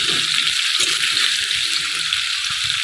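Potatoes for aloo posto fry in a pan with a steady sizzle and bursts of crackle and stirring, continuous and close.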